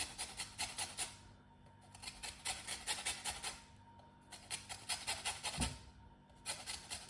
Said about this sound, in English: I'm going to get my grater and I'm going to just grate some zest of that lime